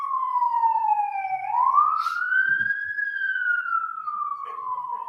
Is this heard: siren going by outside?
yes